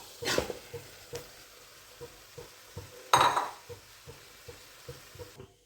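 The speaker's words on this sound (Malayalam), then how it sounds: "ചോറൊക്കെ ഇളക്കി മറിച്ച് സെറ്റാണെങ്കിൽ ഒന്ന് നമുക്കൊന്ന് കൂട്ടി വെച്ച് മൂടി വെക്കാം" Cooked rice for tomato rice being stirred in a pot, with a series of soft rhythmic scraping strokes about every half second and two sharper metallic clanks of a spoon against the pot, close and fairly quiet.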